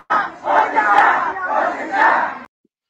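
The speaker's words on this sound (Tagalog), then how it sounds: "Sigawan sila ngayon tapos may tugtog, hustisya, hustisya," Prayer rally crowd in Liwasang Bonifacio shouting and chanting for justice: a loud, dense wall of many voices in rhythmic surges over about two and a half seconds, then abrupt silence.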